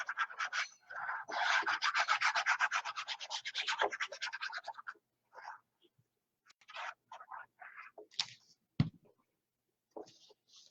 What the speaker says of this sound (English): Just burnish that in.